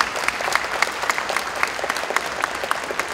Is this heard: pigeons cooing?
no